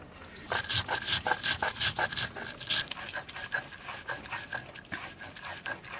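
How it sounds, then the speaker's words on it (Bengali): Black mustard seeds ground by hand with chilli and turmeric, a rhythmic series of rough rubbing and scraping strokes, close and moderately loud, repeating steadily with short pauses. "আজকে শুধু কালো সরষেই বাটবো তার মধ্যে দেবো একটু লঙ্কা হলুদ আর শুকনো লঙ্কা"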